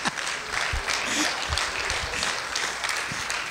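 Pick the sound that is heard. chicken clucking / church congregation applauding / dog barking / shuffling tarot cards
church congregation applauding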